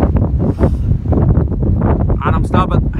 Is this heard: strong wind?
yes